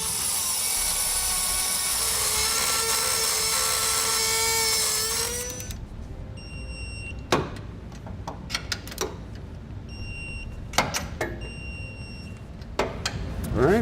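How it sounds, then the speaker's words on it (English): Cutting tool slicing through U-bolts on a 2009 Ford F-150: a loud, continuous high-pitched grinding cut for about five seconds, then quieter workshop clatter with sharp metallic clanks and brief bursts. "I'm going to cut the U-bolts off, and that's going to give us plenty of room to torque them down properly"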